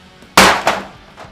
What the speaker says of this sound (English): Now when I hit the hammer against the PLA boat